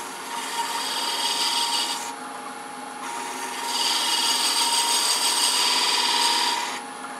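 Parting tool cutting a groove into a wooden box on a wood lathe, part of threading a box with brass inlay. Two sustained scraping, rasping passes of the cutting edge against spinning wood, separated by a short lighter stretch, with no talking.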